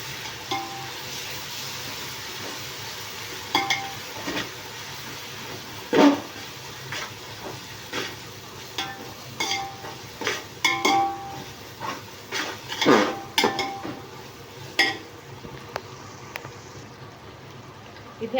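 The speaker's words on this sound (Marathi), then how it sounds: "आता आलं लसणाची पेस्ट घातली. आता हे छान तेलामध्ये परतून घेऊया." Ginger garlic paste sautés in oil with fried onion and chilli while mutton tahari is being cooked, giving a low steady sizzle broken by repeated clinks and scrapes of a spoon against the pan.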